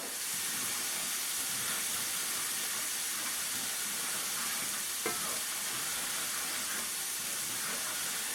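Flour cooking in oil in a skillet for a roux, a steady bright sizzle and hiss that holds evenly throughout with a faint stir noise, close and alone.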